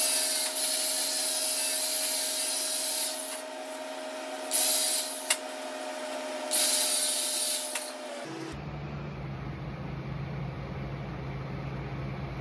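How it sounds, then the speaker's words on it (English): Wire wheel scrubbing torch scale off a welder's bracelet made of stainless steel and silicon bronze, a loud continuous motor whine with gritty abrasive rasp that surges in bursts, then the wheel spins down partway through. "So I'll wire wheel it real quick and show you what it looks like."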